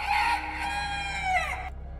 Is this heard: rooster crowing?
yes